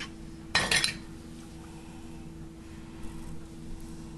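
A spatula scraping and knocking inside a kitchen container while apple butter pie is made, one short clattering burst near the start and then quiet room tone.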